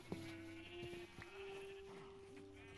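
Sheep bleating in Minecraft, one drawn-out, tonal bleat after another, heard fairly close over a low background hum.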